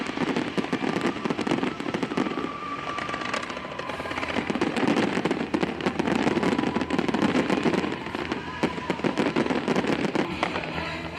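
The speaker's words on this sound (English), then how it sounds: "the 33rd edition of Paris Olympics Games concluded with spectacular show and fireworks." Fireworks at the closing ceremony of the Paris 2024 Olympic Games crackle and bang in a dense, continuous barrage of bursts and rapid popping, loud and unbroken with no clear speech.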